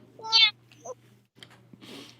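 A voice imitates an angry cat, giving a loud, strained meow-like yowl, a shorter squeak, then a rougher hissing yowl near the end, all over a steady low electrical hum.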